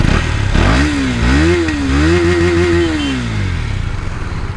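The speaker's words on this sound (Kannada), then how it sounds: "ಎಕ್ಸಾಸ್ಟ್ನ ಒಂದ್ಸಲ ಕೇಳಿಬಿಡಿ ಸೌಂಡ್ ಹೇಗಿರುತ್ತೆ ಅಂತ" KTM Duke 250 motorcycle exhaust, loud and close, with the engine revved up and held at a steady higher pitch, then easing back down toward idle. No speech.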